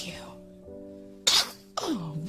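A baby's voiced fussing fades into a quiet hum before one abrupt, breathy sneeze bursts out close by, followed moments later by a short voiced squeal.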